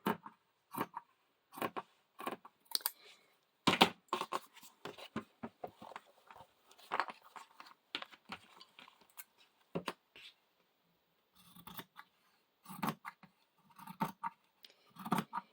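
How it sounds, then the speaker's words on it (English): Scissors trimming the edge of a junk journal cover, a run of short separate snips and paper rustles, close and quiet, with brief pauses between cuts. "So I'm going to trim this off to about 1/4 inch."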